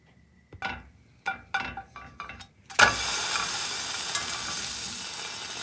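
Grilled cheese sandwich flipped with a spatula in a pan, a few clicking spatula scrapes first, then a sudden loud sizzle that settles into steady frying hiss, no talking.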